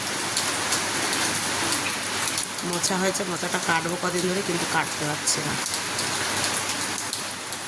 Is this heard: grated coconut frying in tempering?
no